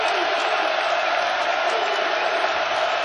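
A basketball arena crowd roars in a steady, dense wash of cheering and noise that stays at an even, moderate level throughout without breaks.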